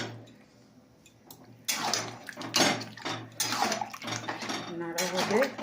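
Water poured into a pot of marinated meat makes a loud, rushing splash that starts abruptly and runs on with clattering pot noises, after a quieter stretch of low hum.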